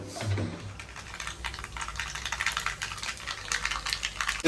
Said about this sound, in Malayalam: കടുക് നമ്മൾ കടുകിട്ട് കൊടുക്കാം കുറച്ച് കടുക്